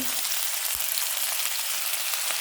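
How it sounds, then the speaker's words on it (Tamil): Onions, chillies and curry leaves fry in hot oil, a steady close hiss and sizzle with a few faint crackles throughout, no voices. "எண்ணெய் கொதித்ததும் வெட்டி வைத்த வெங்காயத்தை சேர்த்தல் மிளகாய் சேர்த்தல் கருவேப்பிலை"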